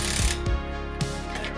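Ratchet wrench loosening slightly rusted bolts on a Fiat Panda 100HP TJet, a few sharp ratcheting clicks with low knocks, close and fairly loud.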